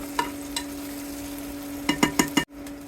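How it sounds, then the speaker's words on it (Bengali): Onions frying in a pan give a low, steady sizzle under a constant hum, with a few sharp scraping stirs clustered near the end before a brief drop to quiet. "পেঁয়াজটা ভেজে নিব।"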